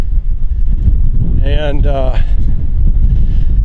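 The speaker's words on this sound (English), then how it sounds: "I know it's a windy day and I can't do a lot of filming" Heavy wind buffets the microphone in a constant low roar throughout, with a voice briefly speaking over it.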